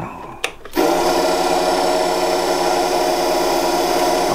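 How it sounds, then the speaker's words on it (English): A wood lathe spins a pen blank while melamine finish is worked onto it. A brief knock comes first, then the motor starts and settles into a steady, close, even hum that runs alone to the end. "turn the lathe on"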